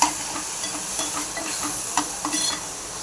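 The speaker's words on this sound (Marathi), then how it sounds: "दोन चमचे मसाले, हे छानपैकी हलवून घ्यायचं" Spices being stirred into a kingfish curry in a hot pan, a soft sizzle with scraping strokes of the spoon coming every second or so, close and fairly quiet.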